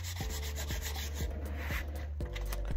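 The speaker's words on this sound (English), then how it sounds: "here we have to do a lot of sanding and more sanding." Steady back-and-forth rasping of sandpaper on wood, close and moderately quiet, with a low motor hum underneath.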